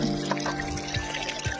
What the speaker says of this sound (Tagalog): Running water. Sa bato.